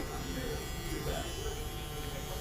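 Electric hair clippers fitted with a half guard buzz steadily and close while trimming hair for a wedding-day cut, a continuous hum with speech over it.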